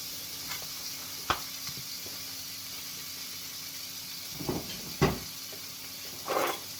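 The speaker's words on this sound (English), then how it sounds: "Love the good sizzle." A soft, continuous hiss of homemade maple bacon frying in a pan, steady and quiet, with a few sharper crackles and pops scattered throughout.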